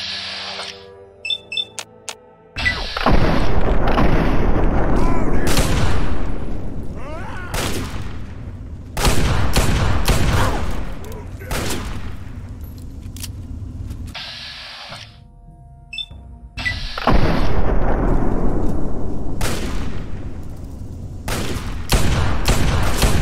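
A weapon fires in Fallout 3, producing a series of loud, booming gunshot blasts in irregular bursts with ringing tails and short quiet gaps between them.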